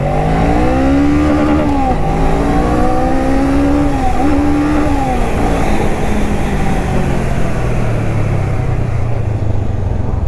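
A 2019 Honda Rebel 500 motorcycle pulling away and accelerating, its engine note climbing through rising revs before settling into a loud, steady roar close by.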